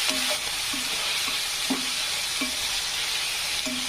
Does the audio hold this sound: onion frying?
yes